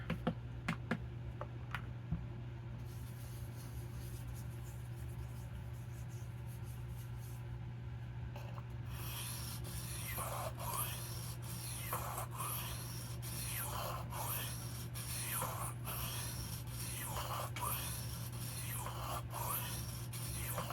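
Vintage Rough Ryder RR1287 pocketknife blade is worked against a sharpening stone to raise a burr, a soft steady hiss giving way to repeated close rasping strokes in a regular rhythm over a low background hum.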